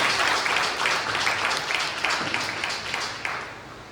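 A church congregation at a worship service claps and cheers together in a dense, steady wave of applause that fills the room, holding strong for several seconds with no pause.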